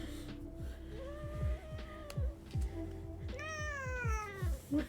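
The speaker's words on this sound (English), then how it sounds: "Now there's a cat here in my coffee." A cat gives a run of drawn-out, rising meows, several in a row and fairly close, over a low background rumble.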